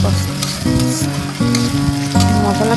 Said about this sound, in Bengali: পেঁয়াজ ভাজা হয়ে গেলে ওর মধ্যে দিয়ে দিতে হবে বেটে রাখা মশলা